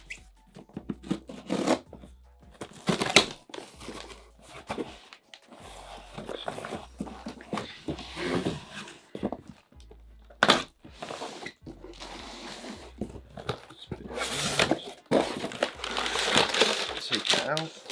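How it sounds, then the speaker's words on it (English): Pokemon x Santa Cruz blind bag skateboard packaging crinkles and rips as it is cut and torn open with scissors, close and irregular bursts of plastic rustling, with speech between them. "Watch me absolutely rip into it with the scissors."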